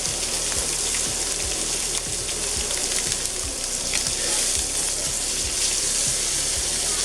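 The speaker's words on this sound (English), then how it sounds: "was just the beef alone rendering in its own fat." Wagyu picanha beef sizzles and crackles in a hot pan as its fat renders, a steady loud frying hiss with small pops throughout, no voices.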